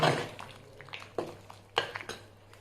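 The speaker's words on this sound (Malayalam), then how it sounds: "ഇടയ്ക്കിടയ്ക്ക് ഇങ്ങനെ ഇളക്കി കൊടുക്കണം" Ash gourd buttermilk curry being stirred in a pot: a few soft, scattered clinks and scrapes of a spoon against the vessel, quiet and close.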